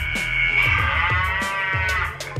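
A cow moos loudly and steadily up close, one long drawn-out low, with faint clicking noises underneath.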